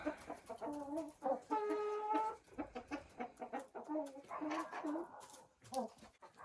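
Hens and two roosters feeding at a dacha, steady clucking and drawn-out calls close by, with someone talking over them intermittently.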